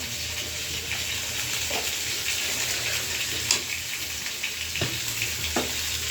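Fish and potatoes frying in a pan, a steady moderate sizzle broken by a few soft scrapes and knocks from stirring.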